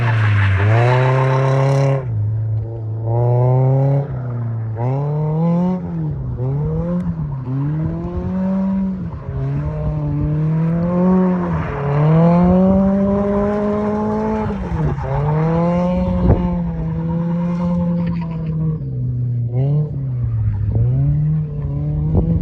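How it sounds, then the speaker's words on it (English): A Toyota AE86 drifts on a track in Mexico, its engine revving hard and rising and falling in pitch through repeated throttle pulls, loud and close, with a brief tire squeal near the start. "My wife's about to drift this car."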